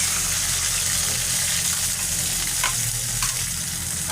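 Cashew paste fries in oil in a pan as a loud, continuous sizzle, with a couple of brief scraping stirs near the end and no speech.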